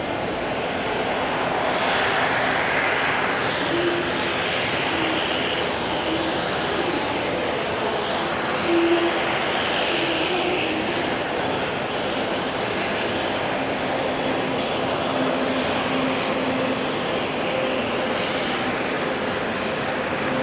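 Airbus A320 jet airliner on a long take-off roll at Auckland International Airport, a steady broad engine roar heard from a distance that holds constant throughout without fading, with no voices.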